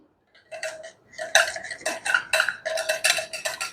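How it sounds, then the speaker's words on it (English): Butter being whisked into hollandaise sauce, with rapid rhythmic clicking of a whisk against a bowl in quick bursts, close and fairly crisp. "Keep that whisking."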